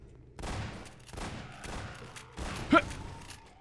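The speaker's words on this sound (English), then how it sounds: "Alex, get the shotgun now." A shotgun fires in Half-Life 2 amid game combat, with a sharp blast near the end over a dense, noisy background of other game sounds.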